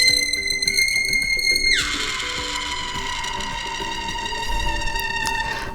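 Synthetic science fiction ringtone on an iPhone 11 Pro: steady electronic tones that drop into a sweeping glide, then continue as a sustained shimmering chime, clear and alone.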